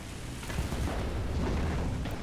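An explosion in the War Thunder video game comes through as a muffled, low rumbling boom lasting a couple of seconds, fairly quiet and distant-sounding, with no speech.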